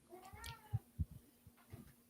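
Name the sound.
cat meowing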